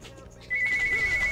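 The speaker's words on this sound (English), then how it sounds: "Hey, the phone's ringing." A telephone ringtone chimes in repeated short warbling pulses during a League of Legends game session, loud over background game sounds and a faint voice.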